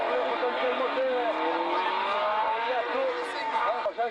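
A class F2 race car competing in a hill climb drives past with a high, rising and falling engine note, heard steadily through the clip beneath an announcer's commentary.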